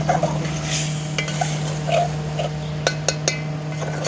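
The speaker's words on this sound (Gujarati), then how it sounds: "ચમચો મારી દઉં" A spoon stirs a vegetable curry in a pan, giving a few soft scrapes and bright clinks against the metal over a steady low hum, close and moderately loud.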